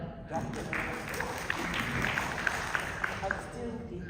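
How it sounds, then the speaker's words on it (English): Applause at a women's leadership conference and professional awards ceremony: a dense, steady patter of many hands clapping throughout, with voices talking over it and a few sharper claps standing out. "Oh, loud applause for this."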